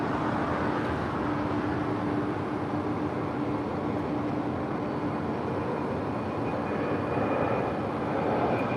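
Airplane landing at LAX heard as a steady, broad engine roar that holds loud and constant throughout, with a faint whine riding above the rumble and no voices.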